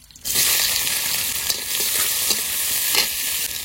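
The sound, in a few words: frying eggplant, fish oil and roe in oil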